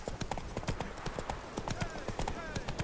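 Horse hooves gallop in a fast, even clip-clop rhythm in The Witcher 3: Wild Hunt, close and steady throughout, with a voice speaking over the running hooves.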